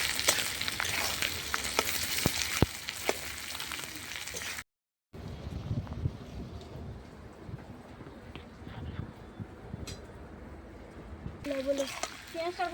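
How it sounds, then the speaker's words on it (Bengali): Onions frying in a pan on a clay stove for red spicy duck curry: a steady crackling sizzle with spatter, near and moderately loud, briefly cut off, then quieter frying continues while a person talks over it. "পেঁয়াজটা লাল করে ভেজে দেবো"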